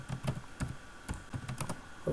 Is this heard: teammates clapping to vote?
no